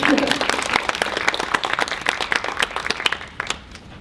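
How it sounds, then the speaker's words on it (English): A small audience at an unveiling party claps for a few seconds, a patter of individual hand claps that thins out and fades toward the end. "Give her a round of applause anyway."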